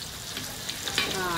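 Curry with brinjal sizzles and crackles steadily in a pan, a close, bright frying hiss with a few stirring scrapes.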